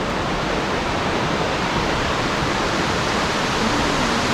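Broad, steady roar of a cascade in lush equatorial vegetation, dense and constant at close range with no voices.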